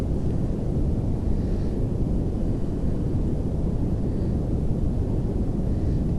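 Rocket engine firing in Kerbal Space Program, a continuous deep rumbling roar, loud and steady throughout with no voices.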